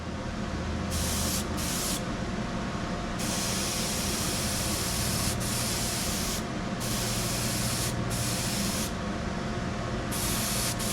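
Spray paint hisses onto a Datsun 510's sanded body panel in a steady, loud rush, broken by a few brief pauses between passes as a new coat goes on.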